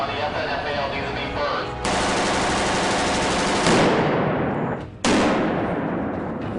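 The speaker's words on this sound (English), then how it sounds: "Take 3 on the FNFAL" FN FAL rifle fired for game sound effects, loud close-up gunfire with dense bursts and sharp reports trailing into reverberant tails, with a short gap before a final blast.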